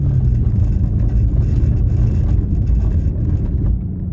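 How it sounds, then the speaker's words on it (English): A 2016 Mercedes-Benz S550 Coupe rolls over a bumpy brick road, heard from inside as a loud, steady low rumble of tyres and road noise that eases slightly near the end. "I'm gonna go over this bump, this brick road."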